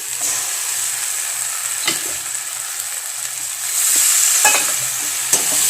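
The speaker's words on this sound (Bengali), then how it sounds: "এরপর মশলা দিয়ে কষাতে কষাতে কিন্তু টমেটোগুলো আরও গলে যাবে।" Spices stir-fried with melting tomatoes in a pan for a pointed gourd and prawn dish, a steady close sizzle with occasional sharp scrapes and knocks of a spoon, growing a little louder toward the end, no talk.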